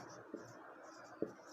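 A pen scratches softly on paper in a few faint strokes while a plant cell diagram is drawn for a biology lesson, quiet and close.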